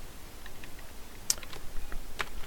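Keys on a computer keyboard are tapped briefly while an author's name is entered into a database search box. The clicks are sparse and faint, a handful of irregular soft taps over a quiet room hum.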